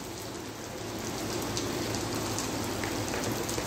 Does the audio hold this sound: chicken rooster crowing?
no